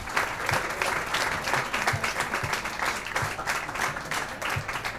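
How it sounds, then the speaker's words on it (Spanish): An audience applauds at a Q&A workshop on electronic music production, a full, lively round of many hands clapping for about five seconds, rising and falling slightly, with no talking over it. "Un aplauso para ellos también."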